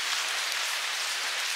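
Dense, steady hiss of heavy rain falling on a farm in Tha Uthen, Thailand, a constant even wash of sound with no voices.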